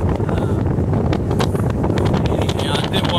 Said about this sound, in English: Like I said, it's a pretty windy day